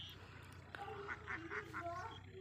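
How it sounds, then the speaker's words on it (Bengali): A group of ducks swims on a river, giving a short run of nasal quacks over steady low background noise. The calls are faint and somewhat distant. "দেখুন অনেকগুলো হাঁস নদীর পানিতে বিচরণ করতেছে।"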